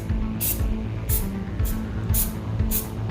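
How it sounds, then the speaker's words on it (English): A spray paint can held a little way back from the surface sprays speckles for a faux stone finish in five short, evenly spaced hissing bursts over a steady low background rumble. "Let's just spray paint this."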